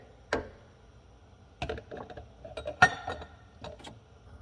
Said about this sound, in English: Now I'm going to add my spices. I have salt, pepper, Italian seasonings, and some chili flakes. Mix that together.